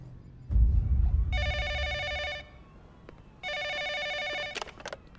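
A telephone rings in two long trilling electronic bursts separated by a pause, fairly loud and close, with some clattering and rustling between and after the rings.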